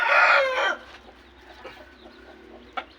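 Chickens and a rooster on a small backyard flock: a loud burst of crowing and clucking in the first moment, then quieter scattered clucks and one sharp call near the end, with no talk.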